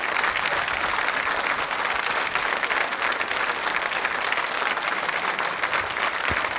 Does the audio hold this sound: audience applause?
yes